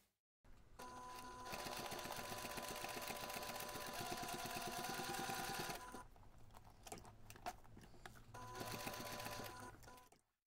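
A sewing machine stitches a backpack pocket in a long, fast, steady run, pauses briefly, then hums through a second shorter burst of stitching.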